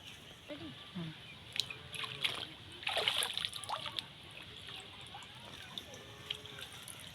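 Red water lily stems lifted from a basin of soaking water, giving soft drips, small splashes and trickles, with a brief cluster of wet splashing in the middle, fairly faint and close.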